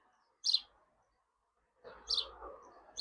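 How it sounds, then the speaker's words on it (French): A small bird nesting under a house roof gives short high chirps, one isolated call followed by a pause, then a couple more chirps amid faint garden background noise. "Vous voyez l'oiseau que vous entendez, il est là-haut, il est en train de faire son nid"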